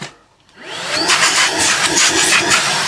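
A Tineco PURE ONE S12 cordless vacuum with a freshly fitted clean filter switches on after a brief quiet moment, its motor spinning up into a loud, steady, close whine of strong suction, with no talking.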